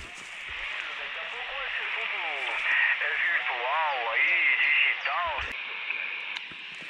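A radio receiver on a quarter-wave antenna plays a clear transmission of voice with warbling, tonal interference and a steady background hiss, fairly loud and continuous.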